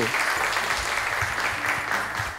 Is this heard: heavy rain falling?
no